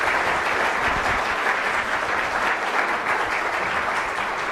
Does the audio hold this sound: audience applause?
yes